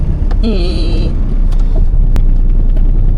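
Rough, loud engine rumble of an old 23-year-old Perodua Kancil car idling with heavy shaking, a steady low drone with a brief whine and clunks, nearby and continuous without voices.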